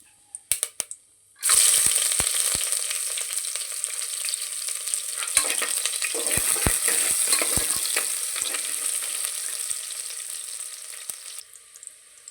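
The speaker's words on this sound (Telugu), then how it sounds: "ఆయిల్ కొద్దిగా వేసుకున్నాం కానీ వేసుకుందాం కొద్దిగా వేగంగానే ఉల్లిపాయలు వేసుకుందాం" Chopped onions hit hot oil in a pan for sweet corn pulao and sizzle loudly and continuously, with sharp clicks of a spoon stirring, close up and with no voices.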